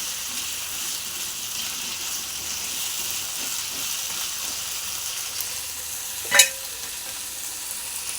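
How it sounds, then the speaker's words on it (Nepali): Food fries in a pan with a steady, even sizzling hiss at moderate loudness, broken once near the end by a sharp metallic clink, with no talking. "राम्रोसित फ्राई गर्नु पर्यो है साथीहरु।"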